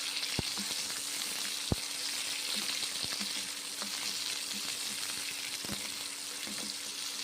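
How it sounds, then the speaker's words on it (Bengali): Cauliflower curry ingredients fry in hot oil for a vegetarian cauliflower and pea dish, a steady loud sizzle that runs the whole time with a few sharp clicks and soft utensil taps, and no voices. "তেল দিয়ে ভেজে নিচ্ছি।"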